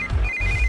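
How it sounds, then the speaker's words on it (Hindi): A telephone ringing indoors, a steady electronic ring tone heard close and alone with a brief break in the middle. "इस वक्त दीदी का फोन"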